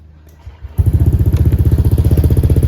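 A scooter engine starts and settles into a loud, steady idle with a rapid, even pulsing beat, running close by to warm up after an oil change.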